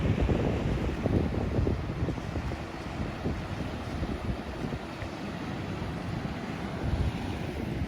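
Steady roar of ocean surf washing in at Cannon Beach as the tide comes in, mixed with gusty wind buffeting the microphone, no voices.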